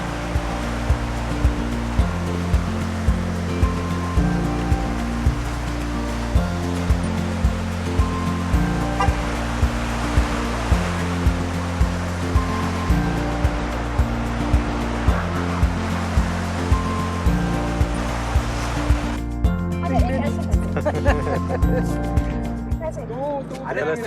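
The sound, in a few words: river flowing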